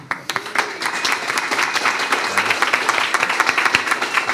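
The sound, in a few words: audience applause for a contestant's answer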